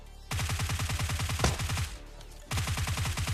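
Rapid automatic UMP gunfire in the battle royale game PUBG Lite, a dense close burst of evenly spaced shots for about 1.7 seconds, a short pause, then another fast burst.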